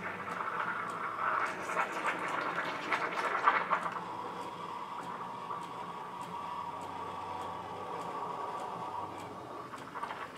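A Syntia espresso machine's steam wand frothing milk for a cappuccino: a steady hiss with a louder, rougher gurgling stretch early on that settles into an even, quieter steam sound. There is no talking.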